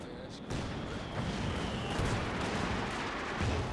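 Gunfire and artillery rumble across a Company of Heroes 2 battlefield, a dense continuous barrage of distant shots and booms, with a voice speaking over it.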